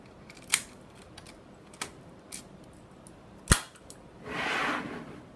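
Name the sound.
Nagasawa KL-4000 mechanical combination lock, key turned and pulled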